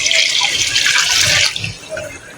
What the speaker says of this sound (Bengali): ওখানে আনতাস পানিটা দিয়ে দেবো